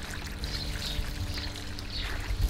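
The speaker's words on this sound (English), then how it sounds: "Put some more water in it." Water is poured into a garden pot to make a bird bath. It gives a steady, close splashing and trickling that runs the whole time without a break, alone with no voices.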